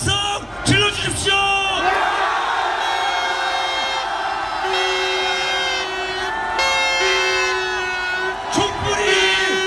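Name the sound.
protest crowd shouting cheers near Anguk Station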